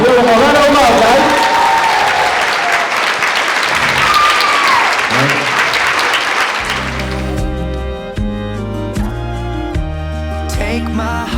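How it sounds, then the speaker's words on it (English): Wedding guests give a loud round of applause with cheers and voices mixed in, then the clapping gives way to music playing toward the end. "Round of applause, guys."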